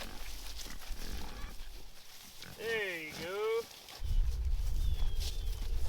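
Feeder piglets on a small 26-acre homestead farm give a squealing, rising grunt in the middle, loud and close, with rustling and footsteps before and a burst of low rumbling movement after.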